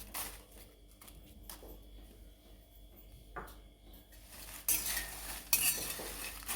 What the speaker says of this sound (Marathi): तेलामध्ये आपण जे तमालपत्र घेतलं ते पण टाकून घेणार आहोत